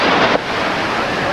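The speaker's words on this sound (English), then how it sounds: "There was some waves." Surf washing in at Aliso State Beach, California, a steady broadband roar of waves that fills the whole short stretch, with a slightly louder surge at the start and wind buffeting the microphone.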